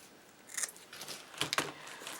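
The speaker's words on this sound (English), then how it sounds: "I'm going to cut it here." Scissors snip through craft material for a basket made from bottle lids, giving a few short, quiet crisp cuts at close range with no talk.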